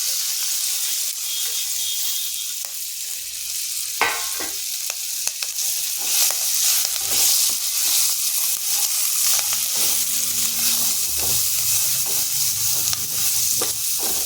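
Chopped ginger and green chillies frying in a pan for a sweet-sour chilli pickle, a continuous loud hissing sizzle with occasional sharp scrapes and taps of a spatula, close up and steady.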